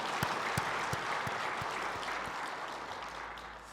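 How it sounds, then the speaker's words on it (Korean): Congregation in a Korean church sanctuary applauds during a Sunday worship service, a dense, sustained wash of many hands clapping with a few sharper claps standing out near the start, steady and fairly loud, then gradually thinning. "다시 한번 감사의 박수 올려드립니다."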